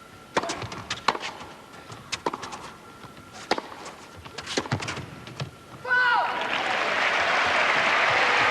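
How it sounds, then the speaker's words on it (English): Indoor crowd at a Paris Bercy tennis match between two players breaking into sustained loud applause after several sharp racket-on-ball hits, with a commentator talking over the rallies. "Crowd responding."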